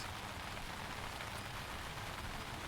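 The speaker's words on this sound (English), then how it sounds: "It's hard to hear with the water sprinkling on our tent like it is." Rain patters steadily on a tent roof during an outdoor beep baseball championship game, a dense, even hiss of drops close overhead with no voices.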